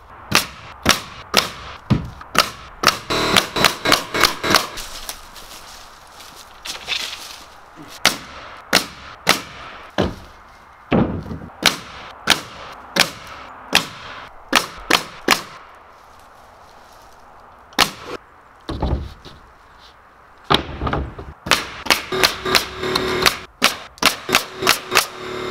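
A nail gun fires fasteners into wall sheathing on a cabin build, heard as sharp, close pops, often in fast bursts with short pauses, with some soft handling noise between shots.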